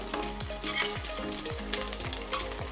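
Dahi vada frying in hot oil sizzles steadily up close, with rhythmic scraping as the fritters are loosened and stirred in the pan.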